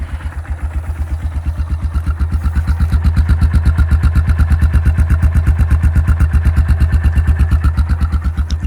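A 2005 Yamaha Kodiak 400 ATV engine idling low and steady, a close, loud, even rhythmic putter that swells slightly after a few seconds and then holds.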